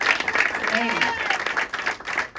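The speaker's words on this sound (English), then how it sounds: "another round of applause for Dante" A crowd at a fundraising show at a yacht club applauds steadily throughout, a continuous wash of clapping with a voice speaking over it.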